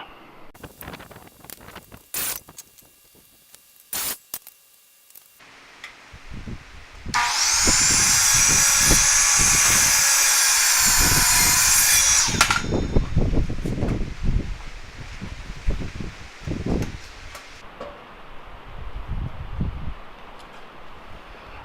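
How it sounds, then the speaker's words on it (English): A stout miter saw cuts a 2x6 board. After a few scattered knocks and handling sounds, the blade spins up into a loud, sustained whine through the wood for about five seconds, then stops, followed by clattering and shuffling of the lumber. "I've got kind of a very stout but not necessarily very flexible miter saw here"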